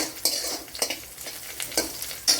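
Onions and crushed cardamom are sautéed in a pan with a steady sizzle, while a utensil scrapes and stirs in repeated strokes close by.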